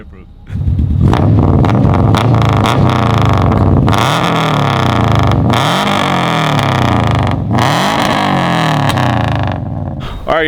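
A rally race car engine revs up hard after a quiet start, then holds a loud, close roar with several sweeping rev surges and brief dips.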